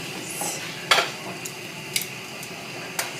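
Cream is stirred into a sauce in a metal pan with a soft sizzle underneath and several distinct clinks of a utensil against the pan, spaced about half a second apart.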